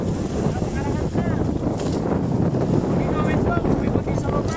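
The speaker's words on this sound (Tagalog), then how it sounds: "Kaya napakalakas na ng hangin talaga." Strong wind buffeting a boat at sea, a loud, steady roaring rush with heavy wind noise on the microphone and faint squeaks and knocks mixed in throughout.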